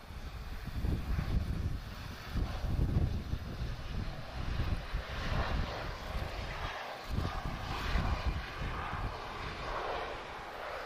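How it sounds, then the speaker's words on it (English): A TAP Express jet in a hybrid Bulgaria Air and TAP Express livery arrives from Casablanca at Lisbon airport, its engines a steady broadband roar heard from a distance, rising and swelling slightly with no talk over it. "one of the leased aircraft just arriving from Casablanca is a TAP Express"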